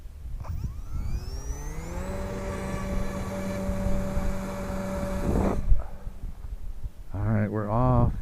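Eachine F4U Corsair, a 500mm four-channel brushless RC warbird on 3S power, launched at about 60% throttle: a steady electric motor whine that climbs in pitch and holds, then cuts off, followed by someone talking.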